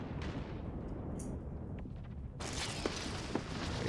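Missile fire and explosions from a space battle in the strategy game Endless Space 2: a steady rumbling barrage with scattered sharp bursts, swelling louder and brighter partway through, with no voices.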